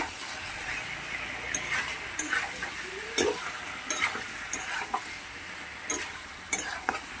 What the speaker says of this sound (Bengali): আমরা মাংসটাকে ভেজে নেব।